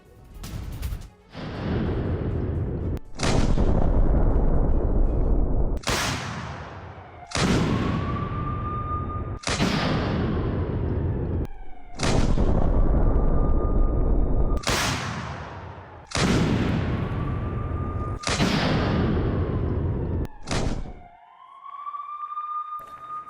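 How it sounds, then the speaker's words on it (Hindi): A Russian D-20 howitzer fires about nine heavy booms at intervals of roughly two to three seconds. Each blast starts sharply and fades into a rolling rumble, and a faint thin whine trails after several shots. "रूस का D-20 हावित्जर से जबरदस्त अटैक का यह वीडियो सामने आया है"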